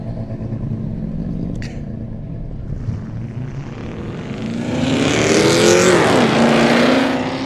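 A Holden Commodore with an LS engine, fuel flap removed, launches up a hillclimb course, its engine note building from a distant drone to a loud, rising roar as it passes close.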